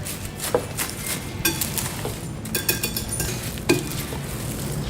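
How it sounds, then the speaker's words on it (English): Spoon stirring flaky puff pastry together with eggs in a bowl, producing soft wet scraping and occasional clinks against the side, close and alone. "Just stir it together."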